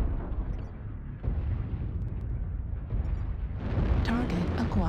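A mech destroyed in MechWarrior Online: a heavy rumbling explosion with sustained low roar, under faint game voice alerts, building louder toward the end.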